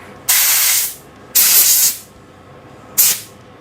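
An airbrush blowing bursts of air over a spoon painted glossy black to clear dust, three loud, close hissing blasts of about half a second each with short quiet gaps between them.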